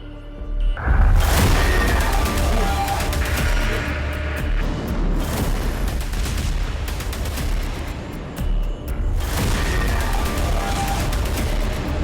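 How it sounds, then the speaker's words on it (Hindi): A huge nuclear missile detonation in the sky, shown in a war news report. It sounds like a loud, close roaring blast with heavy rumbling that lasts for about twelve seconds and surges again near the end. "आसमान में एटमी मिसाइल से धमाका"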